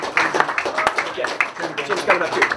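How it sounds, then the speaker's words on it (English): An audience at a Town Meeting Day event gives a round of applause for Joan Shannon, dense clapping heard close alongside voices. "let's close this out by just having a huge congratulations round of applause for Joan Shannon"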